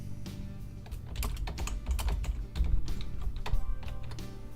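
Rapid clicking of computer keyboard keys as text is typed into an online design tool's text field, steady irregular taps close by with no voices.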